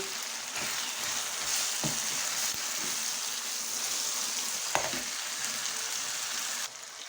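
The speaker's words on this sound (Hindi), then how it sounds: "अब इसमें ये 1 टीस्पून जीरा ऐड किया मैंने। ये चंद काली मिर्चें डाली।" A teaspoon of cumin seeds and a few black peppercorns sizzle in hot oil for maash dal, a steady close crackle with a few soft knocks, trailing off slightly at the end, with no voices.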